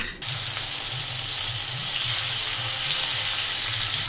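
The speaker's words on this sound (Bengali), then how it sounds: "হালকা ভাজা দিয়েছি, মাছগুলো এখন তুলে ফেলবো" Pieces of katla fish fry in hot oil in a kadai, making a steady, close, hissing sizzle that runs unbroken from start to finish without any talk.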